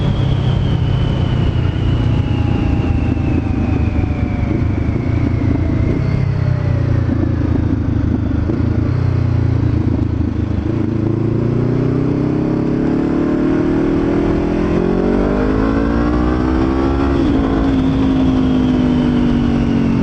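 A loud Honda CBR500R motorcycle engine revs steadily up and down close by, its deep bassy rumble rising in pitch toward the end.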